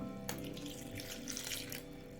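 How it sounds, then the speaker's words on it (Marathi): Water runs from a tap into two vessels of washed vegetables for pav bhaji, a steady close splashing flow that continues without talk. "तर यामध्ये आता दोन्हीमध्ये थोडं थोडं पाणी घालूयात"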